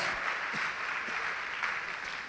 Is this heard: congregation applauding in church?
yes